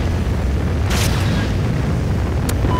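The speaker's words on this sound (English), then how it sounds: "Rocket inbound." A rocket explosion in the video game Call of Duty Ghosts rumbles as a loud, sustained low boom under steady wind-like roar, with a sharp burst near the start and another brief crack toward the end.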